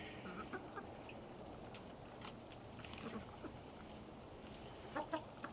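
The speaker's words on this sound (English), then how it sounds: "Looks like I got some chickens going into molt" Hens clucking softly in a winter coop, a few scattered clucks and chatters near the microphone over a steady low hum, with a brief burst of calls toward the end.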